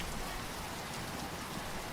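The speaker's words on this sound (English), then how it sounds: "The rains continued." Steady rain as a sound effect in a read-aloud fable, a dense even hiss of falling drops with no gaps, continuous and fairly close throughout.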